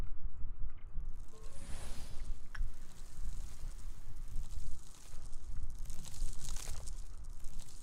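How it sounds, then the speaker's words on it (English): Waves in the video game Lobotomy Corporation, a soft rolling wash of noise that swells and recedes, with faint rustling and crackling textures at low level throughout. "I was freaking out not knowing what that sound was, but it's just the waves"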